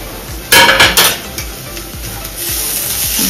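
A spoon scrapes and clanks against a pan as ginger and green chili paste is stirred into fried onions. A few sharp metallic knocks come first, then softer stirring over a low, steady sizzle.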